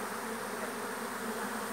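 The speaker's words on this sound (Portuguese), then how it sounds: "é um enxame bastante grande, ó, tem abelha" A large swarm of honeybees buzzes loudly and continuously around beehive supers, a dense, steady close-up drone with no pauses and no voices.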